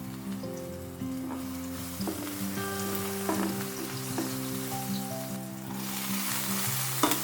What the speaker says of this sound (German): Lauchzwiebel und Ingwer mit wenig Pfefferpulver anschwitzen.